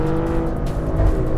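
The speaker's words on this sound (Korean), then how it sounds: "이게 엔진 회전수가 너무 빨리 높아져서" The Maserati Grecale Trofeo's 530-horsepower engine revs hard and fast under acceleration, a loud, dense, continuous roar heard up close with no talking.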